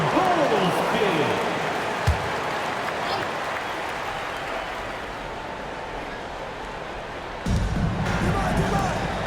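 Simulated arena crowd in NBA 2K26 applauds during a Memphis Grizzlies versus Chicago Bulls timeout, a broad wash of clapping and cheering under announcer talk, with a basketball bounce and a louder swell near the end.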